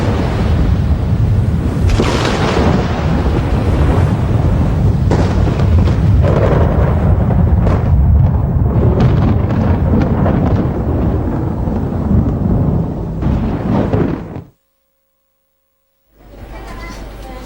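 Thunder from a lightning strike rumbles loud and sustained for about fourteen seconds with rolling booms, then cuts to silence before more noise returns.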